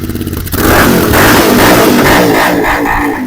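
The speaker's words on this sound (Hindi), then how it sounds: "तो एग्जॉस्ट का साउंड मैं सुना देता हूँ आपको कैसा है।" A Royal Enfield Continental GT 650 fitted with a Red Rooster exhaust, dB killer still installed, starts with a pulsing idle and then revs into a loud, sustained roar. It is close and heard alone.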